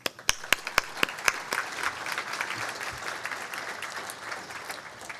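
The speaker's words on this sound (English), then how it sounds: "Let's have a round of applause to thank all of these important members of MEREDA." Conference audience applause opens with several sharp, distinct claps and swells into a dense, sustained round of clapping from a large crowd.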